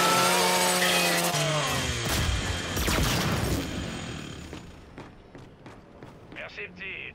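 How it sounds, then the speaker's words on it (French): A Lancer rifle's chainsaw bayonet revs loudly in Gears 5, a grinding, buzzing roar that builds with shattering crunches, then fades into scattered impacts and game effects, with voices talking over it. "utilise la tronçonneuse de ton Lanzor"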